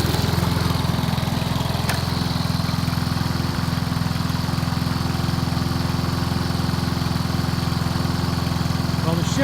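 A Honda lawn mower engine runs steadily and loudly throughout, with a constant low mechanical drone and no pauses or changes in pace.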